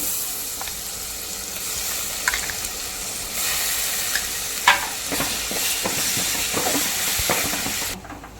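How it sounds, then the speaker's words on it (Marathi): Green masala for a Malvani crab curry sizzles in a hot pan, a loud, constant frying hiss broken by scraping stirs and a few spatters, then cutting off abruptly at the end. "आणि आता हे सगळं चांगलं परतून घेऊया आता हे हिरवं वाटप जे आपण केलेलं आहे ते हिरवं वाटप मी घालते"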